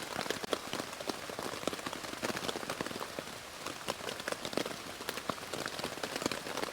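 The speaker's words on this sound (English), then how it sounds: "Just lay here, just listening to the rain hitting the top of the tent." Steady rain drums on the top of a tent while camping in a forest in the UK, a dense patter of close, sharp drops with no voices.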